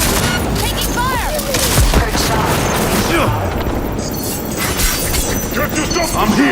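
Gunfire in the video game Cyberpunk 2077, with dense bursts of shots and booms amid a busy battle din while a voice shouts over it.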